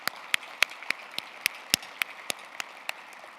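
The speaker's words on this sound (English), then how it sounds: "Let's give them another round of applause." Faint, sparse clapping at a summit, with single claps coming at a steady, even pace rather than a full burst of applause.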